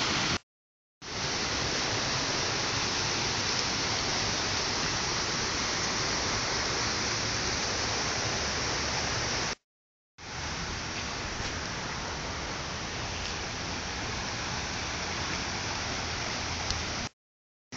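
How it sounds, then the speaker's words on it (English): A creek swollen after a cloudburst rushes past as a dense, loud, steady roar of flowing water, broken only by two brief silent gaps. "Here's the stream, creek, water from the other side."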